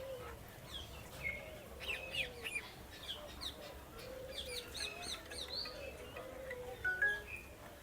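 Several birds chirp and tweet in scattered short calls in a large walk-through aviary at Lake View Park, Islamabad, some clucking fowl among them, fairly faint against a quiet outdoor background.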